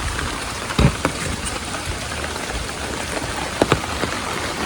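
Heavy morning rain falls steadily as a dense, even hiss, with a few sharper thumps and drips standing out near the start and again toward the end.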